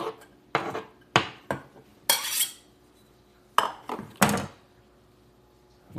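Chopped ingredients for guacamole are dropped into a bowl, giving a handful of separate clinks and thunks spaced a second or so apart, close and fairly sharp, with quiet gaps between.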